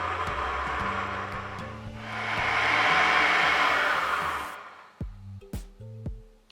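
Electric mixer beating gingerbread cake batter until fluffy, a loud steady motor whir that swells in the middle and stops abruptly, followed by a few sharp taps and knocks nearby.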